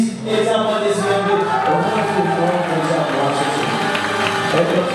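Wedding guests applaud in a crowded hall, a sustained wash of clapping and cheering that swells in and holds steady, loud and close, with tonal music or voices layered underneath.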